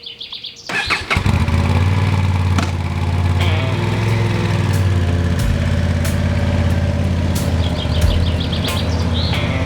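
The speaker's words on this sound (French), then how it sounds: "l'on entend le moteur prendre vie" A motorcycle engine fires up after a short crank and settles into a loud, steady running rumble close by, with birds chirping in the background, before a summer ride in Normandy.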